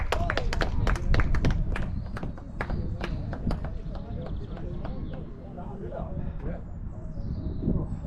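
Clapping at a disability cricket match between Gnomes and Yorkshire for a century: a scattered round of hand claps from a small group outdoors, fading after a few seconds as people talk over it.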